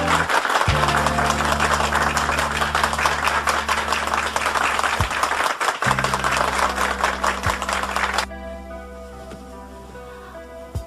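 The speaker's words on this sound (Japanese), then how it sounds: "拍手をお願いいたします。" A room of guests breaks into sustained applause for a hostess at a formal gathering of doctors' wives, dense, loud clapping over a held musical chord, fading to lighter claps and music near the end.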